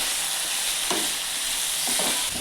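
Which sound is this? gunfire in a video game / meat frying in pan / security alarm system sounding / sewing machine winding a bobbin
meat frying in pan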